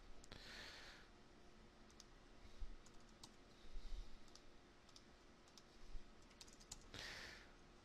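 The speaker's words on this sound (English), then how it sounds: "let's go ahead and type in 44" Fingers tapping on a computer keyboard, a few soft scattered clicks close by over a quiet room hiss, with short bursts of faint breathy noise near the start and end.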